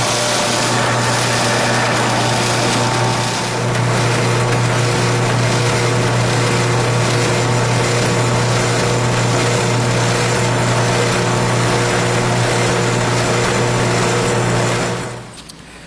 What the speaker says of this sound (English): So we drilled both of these holes